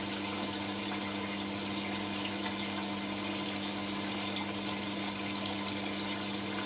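A Hotpoint Aquarius WM12 washing machine takes in water during a quick wash, a steady, unbroken rush and hum of filling water and inlet pump that stays even and close throughout, with no talking.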